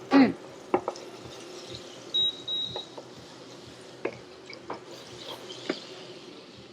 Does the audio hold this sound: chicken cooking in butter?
yes